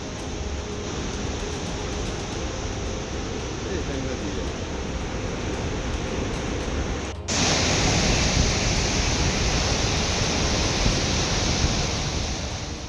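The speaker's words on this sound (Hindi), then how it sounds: "देखिए जरा कैसे उफनती ये लहरें नजर आ रही हैं। नदी में पानी का तेज प्रवाह है" A swollen river surges with heavy flow during monsoon rain, giving a loud, steady broadband rush that jumps briefly louder about halfway through and continues unbroken, with no talk.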